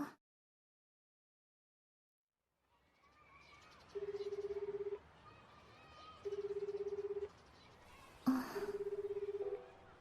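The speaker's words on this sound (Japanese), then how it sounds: "何度かけ直しても電話に出ない。" Telephone call in a Steins;Gate drama CD scene going unanswered: three evenly spaced ringback tones repeat over a quiet background, with a brief sharp noise between the second and third.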